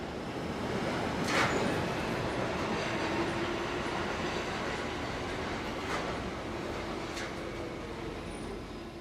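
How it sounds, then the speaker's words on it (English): A London Underground Circle Line train rumbles steadily through a station, a constant loud roar with faint rail clatter and a few brief squeals rising above it. "This train is now ready to depart."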